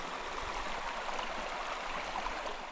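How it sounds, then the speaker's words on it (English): Water rushing steadily over bedrock in a High Sierra mountain stream, a constant close hiss and gurgle with no pauses and no voices. "You can see the water flowing."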